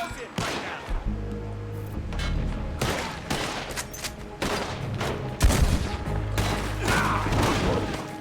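Shotgun gunfire in the video game Red Dead Redemption 2: a string of loud, booming shots at irregular intervals against steady game music and background noise.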